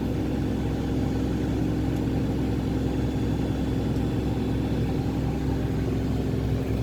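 A Hitachi ZX200-1 excavator diesel engine runs steadily with its throttle tied by rope after a failed throttle motor, a constant loud low rumble that holds an even pitch throughout, with no voices.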